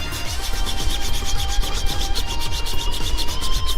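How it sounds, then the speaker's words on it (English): Emery cloth rubbed by hand around the bushing holes of a Nissan 350Z rear subframe, a steady close-up rasping scrape in quick repeated back-and-forth strokes, with no talking. "I'm going to take a piece of emery cloth and just polish the holes out before I try to put the new bushings in."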